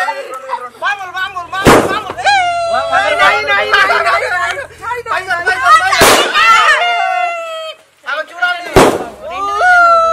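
Three sharp firecracker bangs burst out at a family birthday celebration, spaced several seconds apart over a steady hubbub of many people chattering and calling out nearby.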